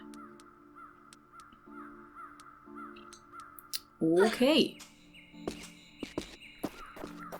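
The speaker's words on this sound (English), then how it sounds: "So there's a few birds in here as well." Crows caw repeatedly in the icy Tomb Raider custom level, with a loud burst of harsh calls partway through, light game footsteps and other effects, and a brief spoken word.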